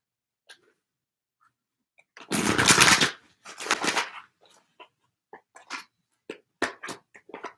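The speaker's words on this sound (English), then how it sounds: "These are all shuffled, but I want to shuffle it one more time" Tarot cards being shuffled by hand in two loud riffling bursts, followed by a string of soft, scattered taps and flicks as the deck is squared and handled.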